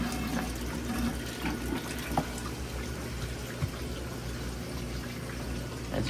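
Water and debris being siphoned out of a fish tank during a water change in a fishroom, a steady close trickling and gurgling flow with a few small clicks, no voices.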